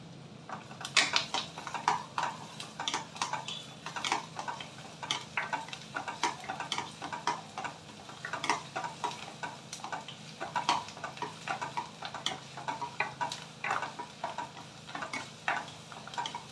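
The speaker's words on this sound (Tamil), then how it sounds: "ஆனியன் போட்டு நல்லா வதக்கிக்கணும்." Onions sauté in a pan for mushroom soup, a constant light sizzle broken by rapid, repeated spatula scrapes and taps against the pan, close by, with no talking.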